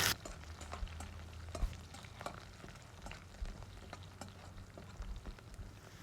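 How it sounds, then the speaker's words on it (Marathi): Crushed garlic and green chillies frying in oil, a faint, close sizzle with scattered sharp pops and occasional stirring scrapes, quiet and continuous. "लसूण आणि हिरवी मिरची छानपैकी तेलामध्ये परतली गेलेली आहे"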